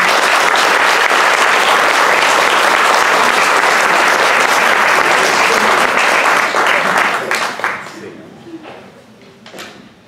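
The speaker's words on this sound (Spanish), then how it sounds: "agradecerle sus aplausos" An audience at a tribute event applauds loudly and steadily for several seconds, the clapping dense and close before it thins out and fades to a few scattered claps.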